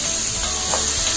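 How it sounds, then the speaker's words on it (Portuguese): Mushrooms and onion browning in hot olive oil for a chicken fricassee, a continuous close sizzle with a soft stir scrape partway through. "Agora aquece um bocado de azeite e aloura-se aqui os cogumelos com cebola"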